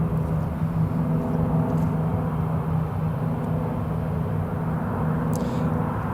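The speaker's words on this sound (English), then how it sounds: "British Airways A320 just going overhead now as well" A British Airways A320 airliner passes overhead near Newcastle International Airport, a steady, loud jet roar and rumble holding throughout the short stretch, with no talk.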